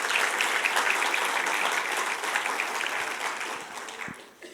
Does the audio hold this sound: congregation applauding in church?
yes